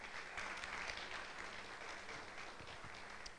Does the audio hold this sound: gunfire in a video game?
no